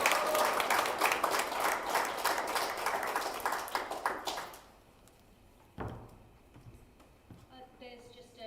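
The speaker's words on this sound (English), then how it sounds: "If you give a warm round of applause to Rowan." Warm applause from a theatre showcase audience for a youth theatre performer, loud and dense at first, then fading out after a few seconds, followed by a thump and quiet room sounds.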